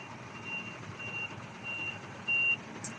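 A truck at a busy cargo unloading site sounds faint, evenly spaced reversing beeps over a low engine rumble, with one louder beep near the end.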